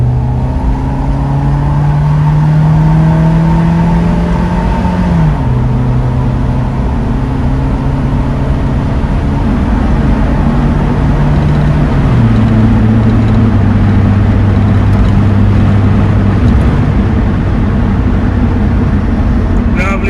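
A Nissan Largo with an upgraded exhaust and chipped ECU revs loud and close with a deep, throaty exhaust, pitch climbing and stepping between gears as it pulls steadily for about twenty seconds.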